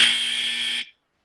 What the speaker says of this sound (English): this specific buzzer sound would be played to notify that the point of information has been raised